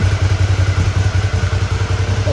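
A Suzuki motorcycle engine warming up at idle, producing a loud, steady, throbbing rhythm close to the microphone with no talk.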